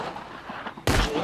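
A single loud gunshot bursts out in the World War II stealth game Partisans 1941, sharp and near, breaking over a low muffled background.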